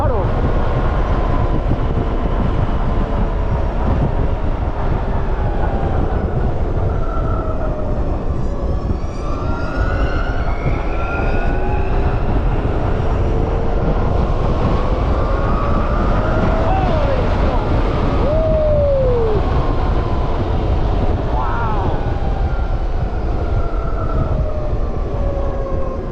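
A Zero DSR/X electric adventure motorcycle accelerating on a test ride, a rising and falling whine of the electric motor heard over steady, loud wind rush throughout.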